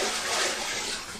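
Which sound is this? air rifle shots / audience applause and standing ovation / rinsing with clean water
rinsing with clean water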